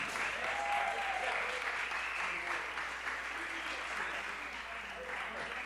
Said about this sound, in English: Let's clap it up for Jeannie.